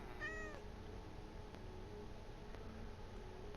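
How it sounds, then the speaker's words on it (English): A cat meows once near the start in a video game, a short plaintive cry over a constant hissing, noisy background that carries on alone. "I don't know how a cat's got in here,"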